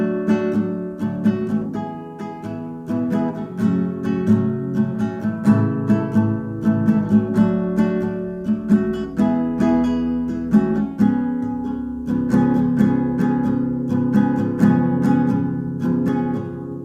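Acoustic guitar strums the bridge chords of a song, a steady strumming pattern with sustained chords ringing out loud and close, no voices over it.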